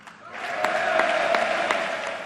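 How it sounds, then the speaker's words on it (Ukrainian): Sustained ovation in the U.S. Congress during a speech by Ukrainian President Poroshenko: a dense, even wash of clapping from a large chamber audience, swelling slightly and holding steady throughout. "Овації під час промови президента Порошенка у Конгресі."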